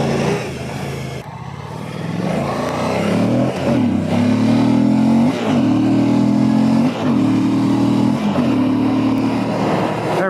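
An adventure motorcycle on a touring ride in Washington accelerates hard, engine climbing through several quick rising gear pulls, close and loud with steady road and wind noise underneath.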